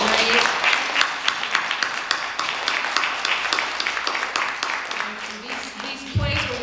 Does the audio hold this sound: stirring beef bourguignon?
no